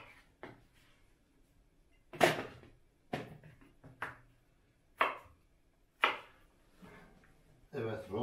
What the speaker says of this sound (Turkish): iri iri doğrayalım